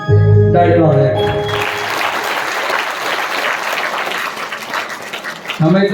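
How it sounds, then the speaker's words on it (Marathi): An audience at a bharud folk performance of devotional social teaching breaks into loud, dense applause that swells and then tapers off, with a voice heard just before and after. "टाळी वाजवा."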